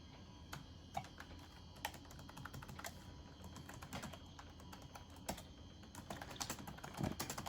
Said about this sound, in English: We can do a keyboard test.